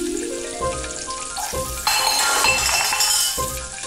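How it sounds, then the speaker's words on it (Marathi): Kitchen utensils clink and clatter with bright metallic rings over a crackling hiss of spices tempering in hot oil, all fairly close with several distinct clinks spaced through. "भांड्यांचा आवाज येतोय, काहीतरी किचन मधला असं फोडणीसारखा आवाज येतोय"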